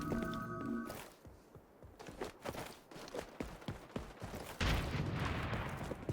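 Bursts of gunfire firing flaming bullets in the XDefiant shooter game, a quick rattle of sharp cracks through the middle, then a heavier blast near the end, mixed with footsteps and game noise.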